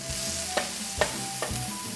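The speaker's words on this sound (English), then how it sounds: "And then I grill them." Food sizzles steadily as it grills in a pan on a stove, with a few sharper scraping stirs breaking through the continuous close frying hiss, and no voices.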